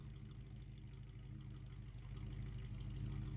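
A car engine idles in the video game Scrap Mechanic, a quiet, steady low hum that grows slightly louder toward the end.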